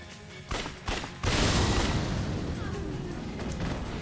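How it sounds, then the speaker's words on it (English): Explosions in Yakuza: Dead Souls, a zombie action game: a couple of quick blasts followed by a big booming burst that rolls into a sustained rumbling roar of fire and debris. "Explosions."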